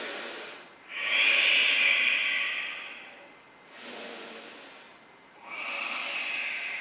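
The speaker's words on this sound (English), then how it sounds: "Take a couple of breaths here." Slow, deep breathing during a hatha yoga arm-balance flow, close and audible: long hissing inhales and exhales alternating in a steady rhythm, with no talk over them.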